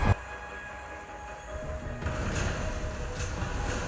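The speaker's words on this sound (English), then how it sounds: "There's another train out there." A train from the TV series Snowpiercer rumbles along its rails with a low steady roar, starting with a sharp thud and growing slightly louder, with faint metallic squeals, and no talk over it.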